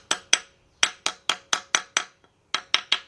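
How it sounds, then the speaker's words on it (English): Sharp metallic taps from a small brass hammer seating a gasket on a 1977 Buick LeSabre 350 engine, struck in quick pairs and runs of about a dozen blows with brief pauses, close and crisp. "and I take my brass hammer,"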